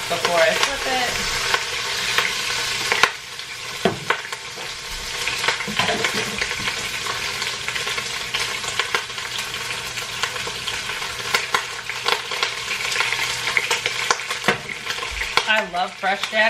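A pot roast sears in avocado oil in a hot pan, sizzling steadily and close for the whole stretch, with occasional scrapes and stirring clatter over the frying.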